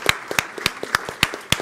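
Sparse, slow clapping from a small audience at a circular economy forum session, about seven distinct claps spaced irregularly and heard close and alone.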